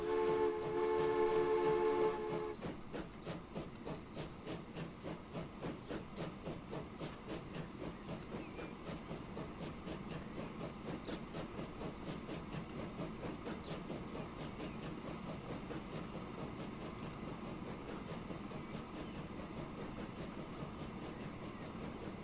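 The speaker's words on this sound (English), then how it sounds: "I just had to sit quietly and admire the majesty of our two trains departing simultaneously" Two trains pulling out together in the video game Transport Fever: a short horn or whistle blast, then a steady rhythmic clatter of wheels over rail joints with a hissing rumble, continuous and even, without speech.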